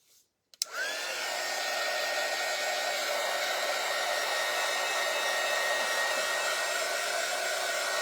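A hair dryer clicks on and then runs in a loud, steady blowing drone, drying plaster-white paint on a styrofoam watermelon slice craft.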